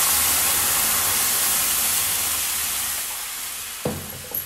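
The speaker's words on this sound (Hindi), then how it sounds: "और अभी इसमें मैं डाल दूंगी ये पानी" Water is poured into a hot pan of spice tempering with broken green chillies for a home stomach remedy, making a loud, sustained steam hiss that eases off before a sharp splash near the end.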